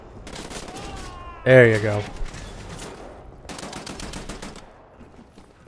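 Gunfire in Wolfenstein: The New Order: bursts of rapid shots in two stretches, fairly close, with someone talking over them.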